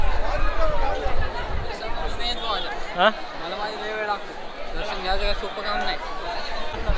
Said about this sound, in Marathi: गडावरती खूप गर्दी आहे